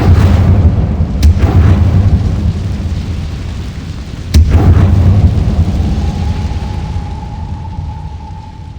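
An Incendio fire spell in Hogwarts Legacy bursts out with two sharp cracks over a deep, roaring rumble like thunder, loud and sustained, followed by a faint lingering tone.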